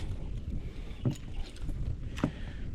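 Strong morning wind of about 5 m/s buffets the microphone in a constant low roar, with a couple of brief knocks and faint water sounds beneath it.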